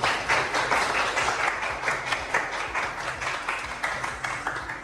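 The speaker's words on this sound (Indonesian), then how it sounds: "Kita kasih aplaus dulu untuk kelompok 1." Audience applause for a student group after their classroom presentation, a steady wash of many hands clapping continuously throughout, moderately loud and without speech.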